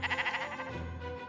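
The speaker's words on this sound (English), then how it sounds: "It's a rainbow sheep." Rainbow sheep in the Minecraft video game bleating, a quick pulsing wavering baa followed by a lower sustained tail, close and clear with no voices.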